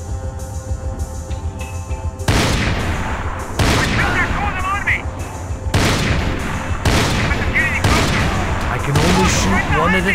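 Loud, close gunfire rings out in the video game Max Payne 3, heavy repeated bursts of shots in clusters over about ten seconds, with electronic chirps and background game noise between them.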